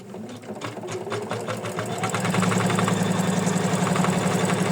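A sewing machine stitches an ornament, its needle clattering in a fast, even rhythm that speeds up and holds steady under a motor whir, close and loud with no voices.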